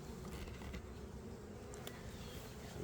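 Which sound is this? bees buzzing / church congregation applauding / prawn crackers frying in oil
bees buzzing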